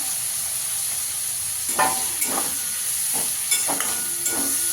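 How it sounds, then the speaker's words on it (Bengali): Chopped onions fry steadily in a pan on the stove, giving a continuous sizzling hiss with occasional brief stirring scrapes and crackles rising over it, with no talking. "পেঁয়াজটাকে একটু ভালো করে ভেজে নিতে হবে।"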